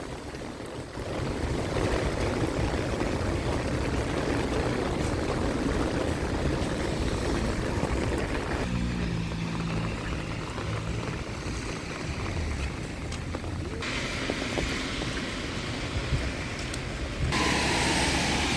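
Steady, dense roar of heavy rain with gusting wind, loud and continuous throughout, with the texture shifting slightly partway through.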